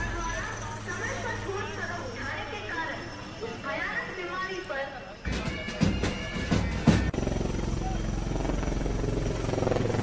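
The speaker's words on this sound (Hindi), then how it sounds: "ऊपर से हेलीकॉप्टर के गड़गड़ाहट की आवाज।" An armed forces helicopter's heavy rotor rumble drones overhead during a flypast, growing louder and choppier partway through, with a crowd's voices murmuring beneath it.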